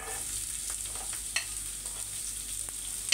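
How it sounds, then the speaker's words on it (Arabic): Onions sizzle in a frying pan for Alexandrian-style liver, a steady bright hiss with a few soft clinks and stirring taps, no talking. "وهنا بقى هنزل بالبصل"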